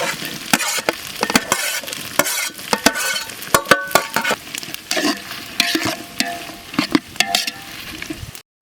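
Ginger garlic paste fries in oil with whole spices for a country chicken biryani, a close, loud sizzle broken by frequent scraping and stirring clatters of a spoon against the pan.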